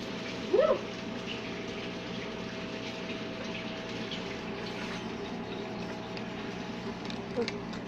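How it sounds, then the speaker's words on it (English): Running water from a kitchen faucet splashes steadily as hands are washed, a soft continuous rush with a brief clatter at the start and near the end. "I'm going to wash my hands and come back to start the sopes."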